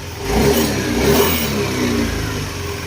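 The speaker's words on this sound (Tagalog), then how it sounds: "Ito na yung tulog ng makina niya ngayon" A Yamaha NMAX 155 scooter engine runs close by with a steady, slightly uneven idle, swelling briefly twice early on before settling.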